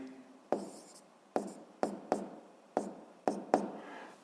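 Pen strokes on paper while a physics momentum-conservation equation is written out, seven distinct scratchy taps and short strokes at an uneven rhythm, close and fairly quiet, with no talking.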